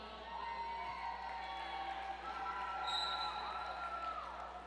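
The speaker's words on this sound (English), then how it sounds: "Let's cheer these skaters on." An indoor crowd cheers and shouts steadily through the final jam of a Root River Rollers mixer roller derby bout between Team White and Team Black, a dense, fairly loud wash of voices and whoops that swells slightly midway with skate and floor noise beneath.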